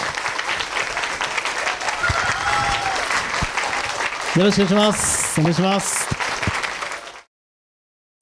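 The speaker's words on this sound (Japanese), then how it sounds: "拍手をお迎えください" Audience applause at a press conference for Matthew Bourne's Dorian Gray, welcoming two guests: dense steady clapping fills most of the clip under brief spoken greetings, then cuts off abruptly near the end.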